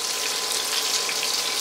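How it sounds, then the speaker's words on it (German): Water pours steadily into a pot over a pork roast with onions, juniper berries and bay leaves, making a continuous close rushing, splashing hiss that runs without a break. "und so viel Wasser, bis das Fleisch bedeckt ist"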